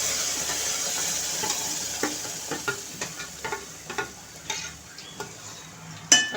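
Ground tomato paste sizzles and spatters in a hot pan with fried curry leaves, a steady frying hiss broken by stirring clatters and sharp spoon taps against the pan, louder strikes near the end.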